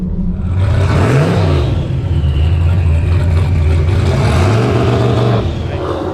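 A turbocharged Foxbody car launches and accelerates hard down a drag strip, its engine revving loud and close, with rising pitch sweeps as it shifts through the gears before fading at the end.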